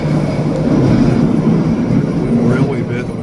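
A train running on rails near railway yards, a steady loud rumble and clatter with a faint wheel squeal toward the end.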